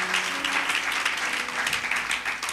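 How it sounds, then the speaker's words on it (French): A church congregation applauds the Lord, a loud, dense, sustained wash of clapping from many hands filling the room, with faint voices mixed in. "Est-ce qu'on peut acclamer très fort le Seigneur?"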